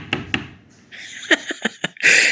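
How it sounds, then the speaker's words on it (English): A series of sharp knocks on a door, spaced unevenly and fairly close, followed by a brighter burst of sound at the end, with no voices. "All of a sudden, a knock can be heard at the door."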